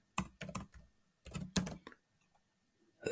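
A folder name is typed on a computer keyboard in two short bursts of crisp, close keystrokes separated by a pause, with a single tap at the end and no speech.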